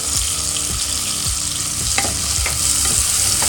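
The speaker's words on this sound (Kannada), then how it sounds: "ಈಗ ಆ ಕಾಳು ಚೆನ್ನಾಗಿ ಹಸಿ ವಾಸನೆ ಹೋಗೋ ತನಕ ಅದು ಚೆನ್ನಾಗಿ ಫ್ರೈ ಆಗಬೇಕಿದೆ" Hyacinth beans frying in a pan for a masala curry, giving a loud continuous sizzle with repeated scraping strokes of a stirring spoon.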